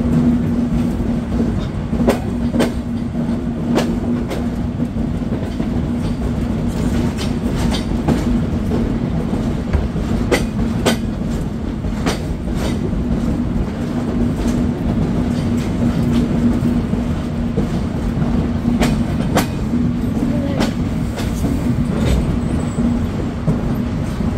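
Steady rumble and rhythmic wheel clatter aboard the intercity Chitra Express pulling into Jessore Junction, with a constant low drone and repeated clicks over the rail joints, no talk.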